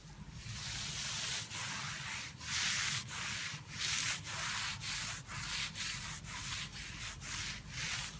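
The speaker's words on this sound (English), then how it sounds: "then it's just the sound of the clay cloth." A clay towel glides back and forth over car paint during surface decontamination, a loud, gritty rubbing hiss in a steady rhythm of roughly one stroke per second, with no voice over it.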